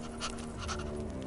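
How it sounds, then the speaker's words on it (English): Red XIII, the lion-like beast in the Final Fantasy 7 Rebirth video game, pants like a dog in quick, steady breaths, soft and close over a low game background hum. "Sorry, panting."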